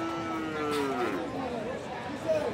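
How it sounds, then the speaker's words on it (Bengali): A large chocolate-and-black Sahiwal bull at a border-area cattle market gives a long, drawn-out moo that rises and falls, heard close over a steady crowd murmur and chatter. "শাহিওয়াল জাতের ফ্রেশ একটা বড় সড়ো বডির একটা গরু"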